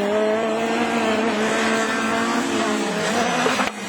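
Division 4 rallycross race cars roar steadily at the Lavaré circuit during a French championship round, a loud sustained engine drone with tire noise and a brief drop near the end, no voices.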